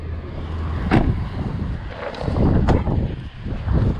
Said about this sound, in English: It is so windy out today.